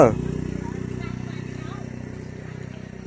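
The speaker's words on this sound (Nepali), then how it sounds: "बाइक आयो" A motorcycle engine runs close by with a loud start and steady throbbing hum that slowly fades as the bike moves off.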